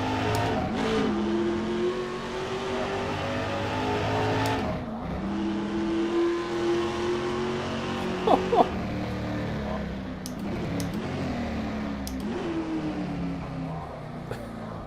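An Aussie touring car engine screams and climbs through the gears in rFactor 2, with brief tire squeal and shifts breaking the loud, continuous whine.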